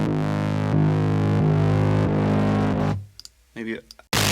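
A thick, distorted wavetable synth bass drones loud and sustained with a shifting, moving timbre for about three seconds, then cuts out. A few brief, choppy synth stabs follow before a burst of bright noise closes the passage.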